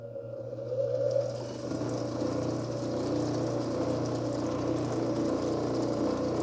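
CabKing 6-inch cabbing machine for polishing rocks starting up with its water pump, a steady low motor hum with watery spray and trickling running continuously at moderate level.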